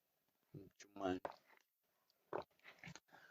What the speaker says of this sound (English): I was just loudly drinking water